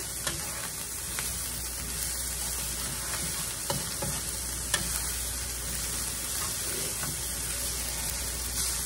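Peas and carrots hit a hot pan for homestyle meat pie filling, giving a steady close sizzle with faint scrapes and clicks of stirring throughout.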